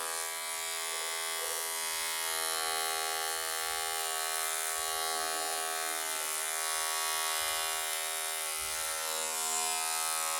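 A Britânia electric hair trimmer and epilator runs with a steady, close, high-pitched motor buzz that holds unbroken throughout.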